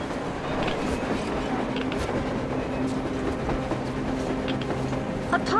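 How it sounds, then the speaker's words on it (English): A train rolls past in the video game Metro Exodus, a steady rumble with rhythmic clatter of the wheels and occasional metallic squeals, loud and continuous throughout. "A train! A damn train on the surface!"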